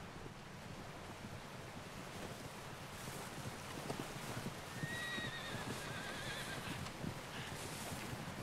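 In the Red Dead Redemption 2 video game, a horse gives a faint whinny partway through, heard over steady wind and surf-like ambient noise with soft hoof clops.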